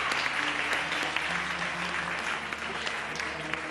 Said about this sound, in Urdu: تالیوں میں گرم جوشی ہونی چاہیے